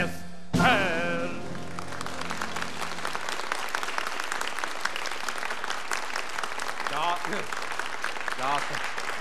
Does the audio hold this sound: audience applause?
yes